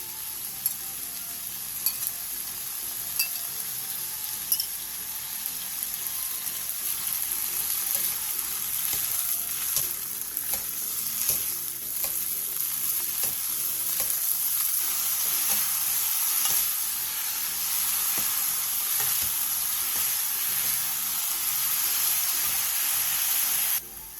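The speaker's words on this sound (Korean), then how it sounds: "팬에 기름을 두르고 도라지, 다진 마늘 1스푼, 소금 3분의 1스푼, 물 7스푼을 넣고 중불에서 2분에서 3분 정도 볶아주세요." Bellflower root stir-frying in an oiled pan with minced garlic, salt and water over medium heat, a steady bright sizzle and hiss with occasional stirring scrapes, continuous and close with no talking.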